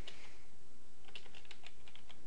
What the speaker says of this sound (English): now if I type file name